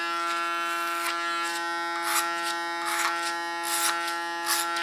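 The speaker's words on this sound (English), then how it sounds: "Can use my clipper as a comb. Just gently comb it up." Electric hair clipper buzzing steadily while trimming hair, a constant close whine with brief crisp bursts of cutting as it combs through the hair, with no talking.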